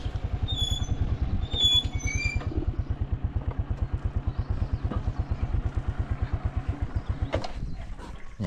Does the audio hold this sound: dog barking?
no